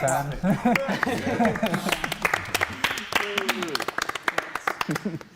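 A crowd claps in scattered bursts that grow sharper and more rhythmic, while people talk and laugh over the start.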